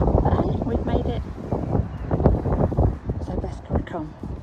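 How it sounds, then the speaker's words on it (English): Strong gusty wind roars and buffets close to the microphone on a rooftop ridge by a dovecote, rising and falling in loud surges. "It was very windy up there, as you can probably tell."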